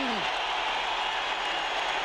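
A home crowd at a men's college basketball game, New Mexico Lobos hosting Utah in the Pit, cheers and applauds in a loud, dense, sustained roar.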